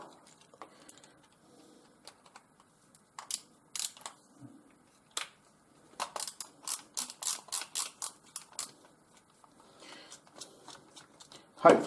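Parts of an electrical plug being undone produce a run of small, close mechanical clicks and ratcheting ticks, sparse at first and then in a quick, steady series, with quiet handling noise between.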